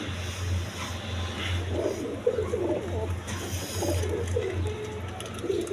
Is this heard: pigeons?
yes